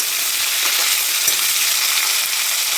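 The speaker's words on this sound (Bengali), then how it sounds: "এবার এটাকেও ভালোভাবে ভেজে নেবো" Vegetables for a Bengali dry cabbage and peas curry, with chopped tomatoes just added, fry in an oiled pan, giving a steady, close, even sizzle that runs throughout with no voices.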